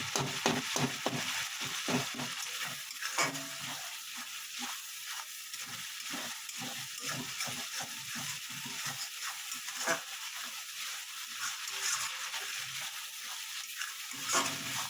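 Ginger-garlic masala sautéed and stirred in a pan for a fish oil dish, a continuous sizzle and hiss broken by rapid, rhythmic scraping strokes from close by.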